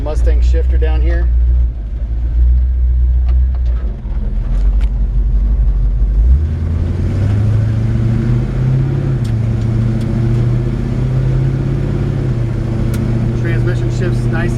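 A 1951 Chevrolet 3600 pickup truck's engine cranks, catches and settles into a loud, close idle, then revs up through rising tones before holding a steady, throaty run, with someone talking briefly near the start.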